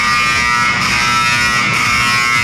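A barbecue smoker in a store puts out a loud, steady electrical buzz that drones without a break and sits up close, with no voices.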